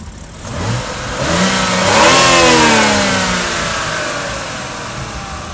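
A BMW X7 with the B58 3.0-litre turbocharged inline-six starts up and revs, the engine note rising to a loud close peak before settling into a steady idle, with no talk.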